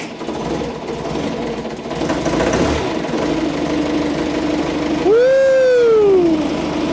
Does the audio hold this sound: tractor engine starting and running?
yes